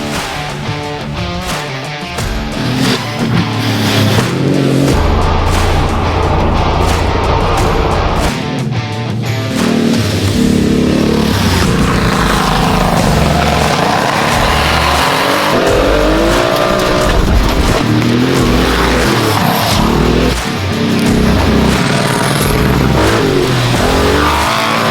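A Porsche 959 Paris-Dakar rally car laps on snow, its engine revving hard and rising and falling through gears with intermittent tire squeal and skidding, loud and continuous for the whole stretch.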